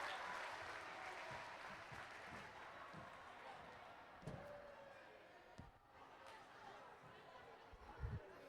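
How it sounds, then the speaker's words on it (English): Students at a George Washington High School outreach event applaud a classmate's correct answer, a steady patter of clapping mixed with chatter and a few sharp knocks and thumps. "Let's give him a round of applause over here."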